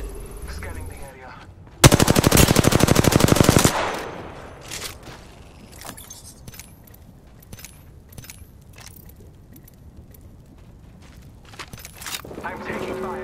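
Automatic weapon fire in the battle royale game Apex Legends, a loud sustained burst of rapid shots lasting about two seconds, followed by scattered fainter gunshots and game effects under quieter background sounds.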